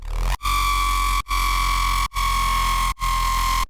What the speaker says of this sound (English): Then I added a tube distortion